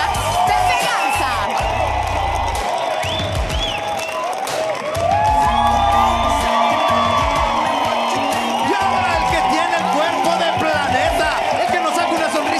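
A studio audience at a Mexican TV variety show applauds and cheers with scattered whoops, a steady crowd roar running throughout alongside music and a talking voice.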